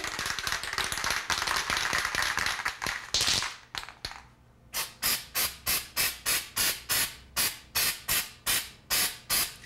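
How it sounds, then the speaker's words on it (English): Spray primer hisses onto an outlet plate cover: one long continuous spray up front, then a quick run of about ten short, evenly spaced bursts, loud and close, with no talking. "gently spray the outlet, the plate cover."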